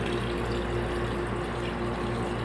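Maple sap dripping and flowing through buried 2-inch pipes into a releaser, a steady watery trickle and gurgle with a low pump-like hum, continuous and fairly close.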